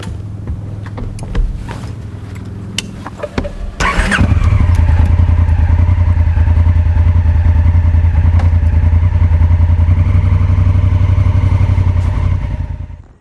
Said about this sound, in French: je vais surtout très vite remonter sur ma moto pour avoir un petit peu d'air